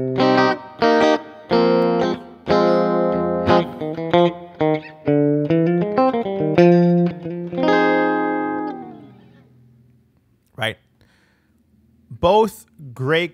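Clean electric guitar with a touch of plate reverb, played through a UA OX Box, plays a run of plucked notes and chords for about ten seconds, then two brief quiet strums.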